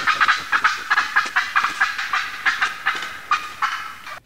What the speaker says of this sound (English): male and female turkeys will cackle